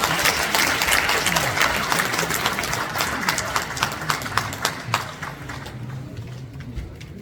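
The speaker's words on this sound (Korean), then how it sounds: "큰 박수로 맞아주시기 바랍니다." Audience applause welcoming a former prime minister and Seoul National University president to the stage at an inauguration ceremony, a dense wash of clapping that fades toward the end.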